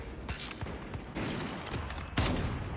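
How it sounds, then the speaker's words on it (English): Sniper rifle fire in a ranked Call of Duty: Mobile battle royale match: several sharp, booming shots in quick succession over a dense, noisy game soundscape, with no speech. "Oh, now got sniped."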